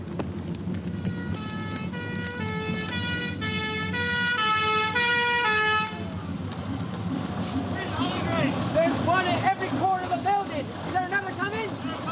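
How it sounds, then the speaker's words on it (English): A British fire engine's two-tone siren wails in a steady alternating pattern for several seconds, loud and fairly close over traffic noise, then fades as someone speaks. "There's another fire engine coming, so you'd better move on."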